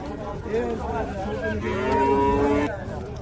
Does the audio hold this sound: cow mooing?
yes